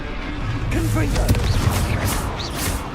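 In Hogwarts Legacy, the Confringo blasting spell fires off with a crashing burst and rumbling impacts amid game effects, while a person talks over the mix.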